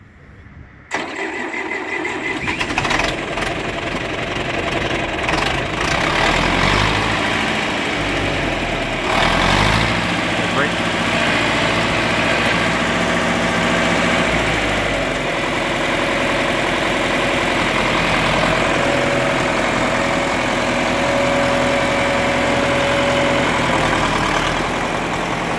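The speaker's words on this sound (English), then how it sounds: "starting the John Deere 3020." A John Deere 3020 tractor engine cranks and catches after a brief silence, then settles into a loud, steady, close-up idle with rough low rumbling that continues for over twenty seconds.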